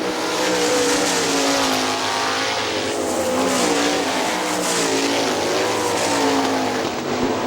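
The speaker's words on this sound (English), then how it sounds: "Ben Rutan drifting up high out of turn 2" Sprint cars race on the dirt oval at Hartford Speedway Park, their engines roaring loud and continuous as the cars pass and drift, with the pitch swelling and falling as they go by.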